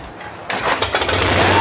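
A Harley-Davidson motorcycle engine is kick-started. After a quiet moment it catches with a sudden loud mechanical rattle and settles into a rough, steady idle.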